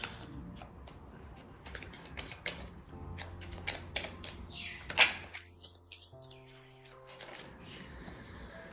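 Tarot cards being shuffled by hand, a close, quiet run of rapid papery riffles and soft taps and slaps, continuing in bursts throughout, with faint speech in the background.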